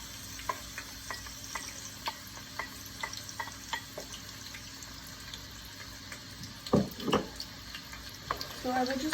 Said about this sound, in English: So I will just stir until it is fried.